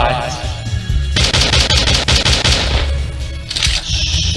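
Gunshots in the horror game Slendytubbies 3 sound as loud, rapid automatic bursts of cracking fire, sustained through most of the clip with brief pauses between volleys.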